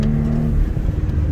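A Buick Roadmaster wagon's engine pulls hard on an autocross course, a steady loud mid-range drone under load with a brief whine early on, heard alone.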